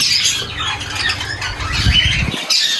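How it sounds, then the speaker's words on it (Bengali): Prince birds, a kept collection of small cage birds, squawk and chatter in bright, repeated calls close by, with faint wing flutters and no talking. "দেখেন কত সুন্দর পাখি, এগুলোকে বলে আপনার প্রিন্স পাখি"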